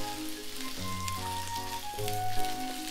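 Oil sizzles and crackles steadily in a frying pan while cooking Japanese-style hamburger steak, close and continuous, with a faint hum underneath.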